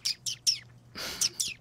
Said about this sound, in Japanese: SE っていうね音も鳴らしてたんですよ、鳥のさえずり